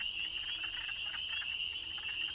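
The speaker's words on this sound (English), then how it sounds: "The croaking-type sounds are those of the male wood frogs, while the other peeping sounds are those of the spring peeper" Male wood frogs croak among the steady, shrill peeping of spring peepers at a breeding pond in early April, a dense continuous chorus with nothing else heard.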